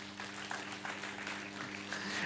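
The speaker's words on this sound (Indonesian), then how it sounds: "Tepuk tangan." Audience applause at a spiritual talk, a faint, steady patter of clapping heard at a distance with a low hum underneath.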